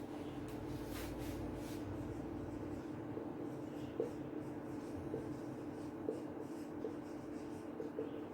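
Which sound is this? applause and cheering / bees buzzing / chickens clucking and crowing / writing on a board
writing on a board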